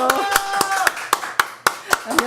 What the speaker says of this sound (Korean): 가장 뜨거운 박수로 환영하겠습니다.